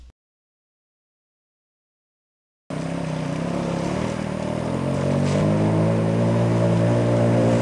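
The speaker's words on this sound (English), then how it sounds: "On this episode of Marty's Motorized Mayhem, we take the Suzuki King Quad and Honda 4Trax ATV out for a spin" Engines of a Suzuki King Quad and a Honda 4Trax ATV start up after a stretch of silence, a steady, fairly loud motor drone that builds slightly and holds to the end.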